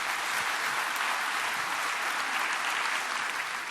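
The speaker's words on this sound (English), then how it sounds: "Please applaud Patrick, who's come us to tell us about everything." Dense, steady applause from a conference audience greeting a speaker at EuroPython, a continuous broadband wash of many hands clapping at even loudness throughout.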